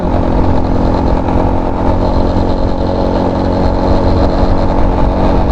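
Mondial SFC Mini 50 EC 50cc moped engine accelerating on the open road. Its small two-wheeler engine drones steadily, loud and close, with a constant buzz and rush of wind and no speech.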